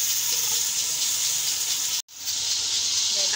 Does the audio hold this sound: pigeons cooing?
no